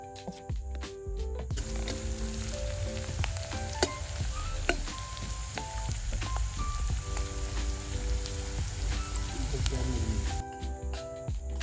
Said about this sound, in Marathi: सुक्क बनवण्यासाठी 1 टेबलस्पून तेल टाकलेलं आहे आणि ह्यामध्ये 1 कांदा उभा चिरलेला बारीक टाकलेला आहे.